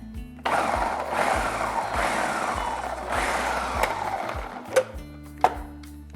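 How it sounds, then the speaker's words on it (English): A kitchen blender gives pancake ingredients a few short pulses, its whirring motor starting and stopping in quick bursts, with a couple of sharp clicks near the end. "put them in my blender. And I'm just gonna give them a quick pulse."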